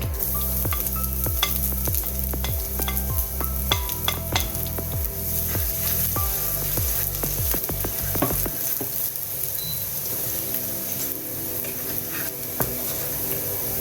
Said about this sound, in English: mustard seeds and cumin seeds. Once all these start to splutter, it's time to add in your chopped garlic.